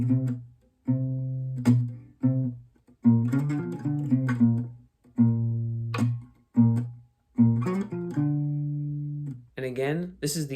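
A song played on a looping guitar: layered plucked and strummed notes with percussive body taps repeat in a steady pattern, bright and close with no talking.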